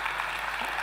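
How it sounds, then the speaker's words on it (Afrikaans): A church audience claps for a newly introduced team member in a brief, dense burst of steady applause with no talking. "Julle kan vir haar hande klap,"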